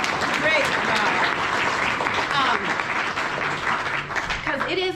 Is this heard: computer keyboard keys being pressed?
no